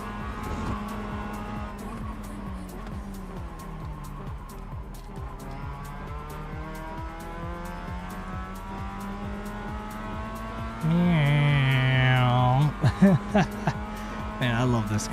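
Race car lapping Monza in the iRacing sim, a steady engine drone with shifting harmonics and a louder revving burst near the end, running under continuous talk.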